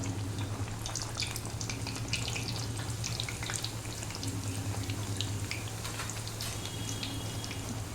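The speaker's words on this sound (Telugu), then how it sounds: "ఆయిల్ హీట్ ఎక్కిన తర్వాత నూనెలో డీప్ ఫ్రై చేసుకోవాలి పూరీలాగా" Pooris deep frying in hot oil, a dense, even crackling sizzle with a constant low hum underneath, close and steady throughout with no talk.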